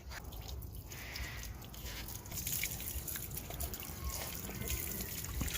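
Water pours and trickles over a dog being bathed, a steady close splashing and dripping that runs throughout without pause.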